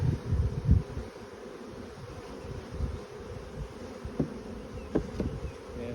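Honey bees swarm around an open hive during a quick inspection, a steady close drone of many wings with a few louder passes and faint rustling of frames.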